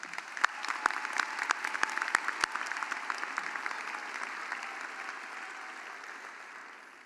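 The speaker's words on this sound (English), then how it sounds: "One more round of applause, please." Applause from a university commencement audience, a dense steady patter of many hands with a few sharp louder claps near the start, sustained and gradually fading toward the end without any voices.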